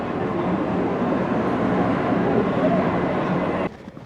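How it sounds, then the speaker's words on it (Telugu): A Japanese Shinkansen bullet train arrives with a loud, steady broadband roar and rush that cuts off abruptly near the end. "ఇది మన ట్రైన్ వచ్చింది"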